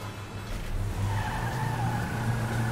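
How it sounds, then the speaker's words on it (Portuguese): A car driving in GTA V, a steady engine drone with a rising tonal whine and faint tire noise, continuous and fairly close with no talk. "Continua andando com o carro"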